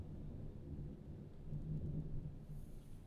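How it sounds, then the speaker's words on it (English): Low rolling thunder rumbles steadily through a stormy outdoor scene outside a post office in Annapolis, distant and fairly faint, with a hint of rain just beginning. "You guys hear Thor beating his hammer?"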